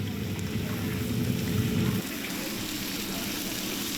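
Meat-stuffed tofu fries meat-side down in a hot pan, a steady loud sizzle for about two seconds that then drops to a softer, quieter hiss.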